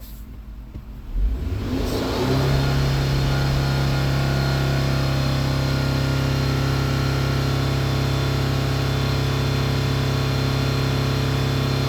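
Car engine being raised off idle during a catalytic converter diagnosis for P0420 and P0430 codes, climbing after a second or two into a loud, steady high-rpm drone that holds with no voices.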